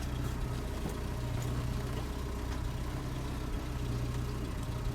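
Peugeot 505 ST petrol engine running steadily at idle during its break-in period, a continuous low rumble heard up close without talk.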